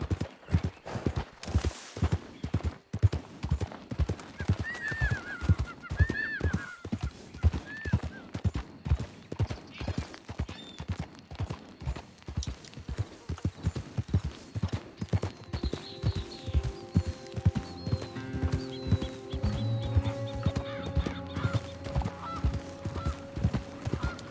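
Hooves clip-clop in a steady, rapid rhythm as a horse is ridden in the video game Red Dead Redemption 2. Ambient bird calls and honking play in the background, and later a musical score joins the continuous hoofbeats.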